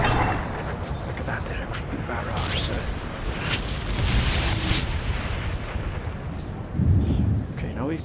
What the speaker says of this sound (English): Using the artillery, sort of a creeping barrage.